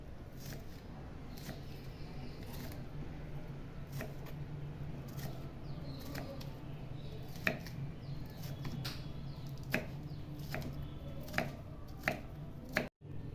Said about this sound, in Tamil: நம்ம இந்த மாதிரி பொடியாக அரிஞ்சிக்கணும்.